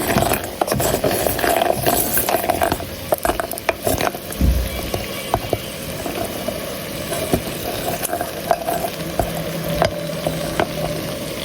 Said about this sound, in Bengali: তরকারির বলক উঠে গেছে